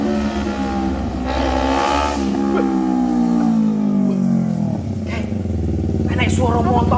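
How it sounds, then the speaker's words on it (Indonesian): A motorcycle engine hums and revs as it draws nearer, its tone shifting steadily over several seconds, with people talking close by throughout. "Enek suara motor."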